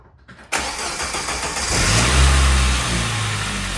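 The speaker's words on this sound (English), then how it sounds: "let the car run until it's up to temperature" A Saab 900 engine turns over and settles into a steady running idle, a loud close mechanical drone with a low rumble swelling midway, heard with no talking.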